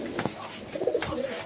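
Silver mukhi pigeons in a loft give soft, repeated coos close by, mixed with light rustling and a faint background murmur.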